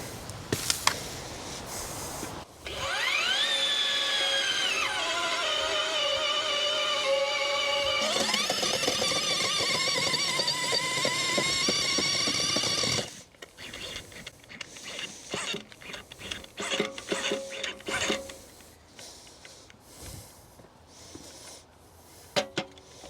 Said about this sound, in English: So we're going to start with the 9-inch auger,